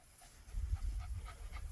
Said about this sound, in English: You can't be panting already.